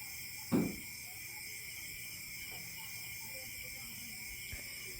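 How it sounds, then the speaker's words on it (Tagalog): Night insects trill in a steady, high, continuous drone across a very quiet rural night, with a soft thud near the start and a faint tap toward the end. "Pag gabi, maririnig mo lang mga kulisap."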